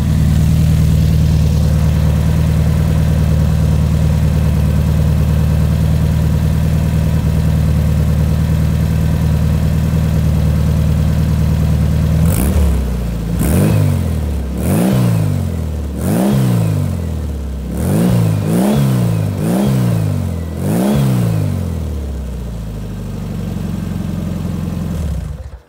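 A 356 Speedster replica engine idles steadily for about twelve seconds, then is revved in a series of quick blips that rise and fall sharply, loud and close with no talk.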